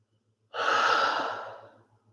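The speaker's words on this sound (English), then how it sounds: "just keep these nice deep breaths flowing" One deep breath during a guided breathing exercise, a single long airy exhale, close and fairly loud, swelling quickly then tapering away over about a second and a half.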